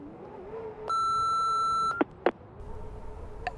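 A voicemail beep in the video game Remothered: Broken Porcelain, one steady electronic tone held for about a second, followed by a couple of soft clicks over a low background hum.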